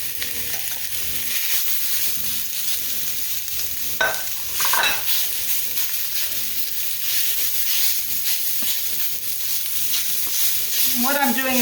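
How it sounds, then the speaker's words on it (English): Sausage and onion brown in a frying pan on the stove, giving a steady hissing sizzle with occasional scraping stirs and clatter partway through, fairly close and moderately loud. "the browning of my sausage and my onion"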